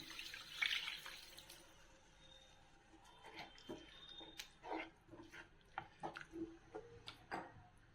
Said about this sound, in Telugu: ఇప్పుడు చింతపండు వాటర్ పోస్తున్నాను